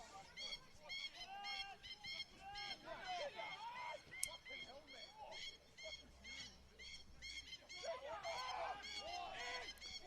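Geese honking repeatedly on the pitch during a state-league football match between Adelaide City and Para Hills Knights, a steady chorus of calls with crowd and field noise beneath.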